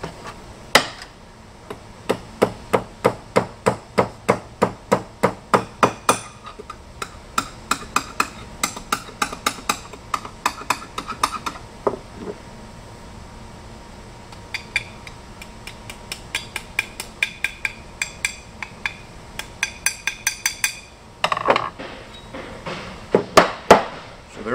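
A small hammer taps metal while forming a flattened lip on an organ pipe, giving long runs of rapid, evenly spaced sharp strikes close by, with short pauses and some irregular clusters of blows.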